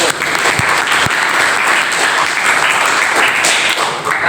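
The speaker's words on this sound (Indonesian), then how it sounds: "kasih aplaus" Vocational high school students in a welding and metal fabrication class clap together in a sustained, dense burst of applause that fills the room, loud and continuous from start to finish.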